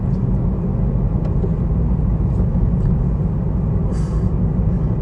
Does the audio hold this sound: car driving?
yes